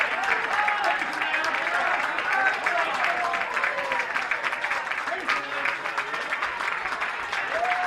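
Home crowd at a Minnesota Class B state tournament baseball game between the Eagan Bandits and Dundas Dukes, cheering and clapping steadily with whistles and shouts as a pitcher nears the final out.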